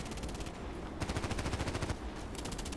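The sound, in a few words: gunfire in video game Contract Wars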